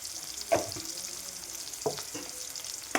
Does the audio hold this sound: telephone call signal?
no